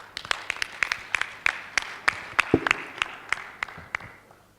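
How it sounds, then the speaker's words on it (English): A conference audience at an annual general meeting's opening ceremony gives sparse, scattered claps after the president's address, sharp individual hand claps ringing out in an irregular rhythm before tapering off. "Give him a more resounding applause"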